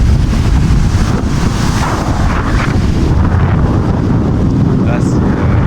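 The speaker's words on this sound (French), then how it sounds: "il y a vraiment du vent et il y a des grosses vagues" Strong wind buffets the microphone as big waves roll in on the Crete coast, a loud constant roar of surf and gusts throughout.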